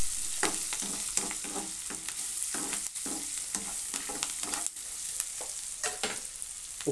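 Spices stirred through crumbled idli with salt and turmeric in a hot frying pan for idli upma, a steady sizzle under repeated scraping strokes of a spoon, close and even throughout with no talking.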